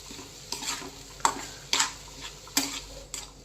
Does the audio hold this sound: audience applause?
no